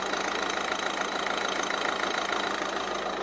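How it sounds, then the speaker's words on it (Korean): A 1.6-liter diesel car engine idles steadily up close, a constant rough rumble with a faint rhythmic knock and no other sounds. "디젤 엔진 치고 엔진 소음이 그렇게 큰 편이 아니고요"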